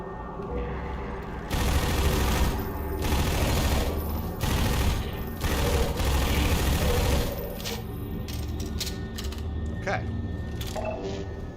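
Rapid submachine gun fire from a horror shooter game rattles in loud sustained bursts, with a few sharp metallic clinks and game effects near the end.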